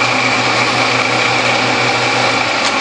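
A metal lathe runs steadily with a normal-length 5/16 drill bit held in the tailstock, giving a constant loud motor whine and hum with no change in pitch or level.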